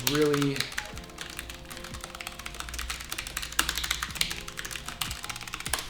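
Rapid clicking keystrokes from a Logitech G915 low-profile mechanical keyboard on a flat desk, close by and steady, while a person talks over the typing.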